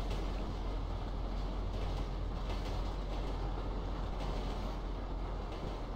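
Train riding in GTA V: a steady, dense rumble of rolling rail noise with a low drone, continuous and moderately loud throughout.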